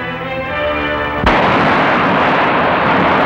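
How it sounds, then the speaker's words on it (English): Gunfire rings out as a gunman inside a store at 5th and F shoots at arriving police officers: one sharp, loud blast followed by a sustained, noisy roar. "he resisted officers with gunshots."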